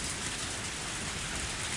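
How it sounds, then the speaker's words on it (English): Heavy rain in the visual novel Higurashi When They Cry, a dense, constant hiss of downpour on surfaces, loud and unbroken with no other sounds. "The rain's heavy today, too."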